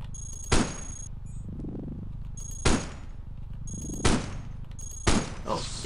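Cannon fire in the video game Cogmind: four sharp, loud blasts spaced a second or more apart, each with a short decaying tail over a steady low rumble and electronic tones, no talking.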